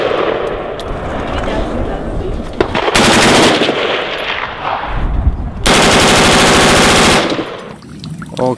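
Bursts of M16 rifle fire from a video game, two sustained loud automatic volleys with scattered single shots between, played close and without talk.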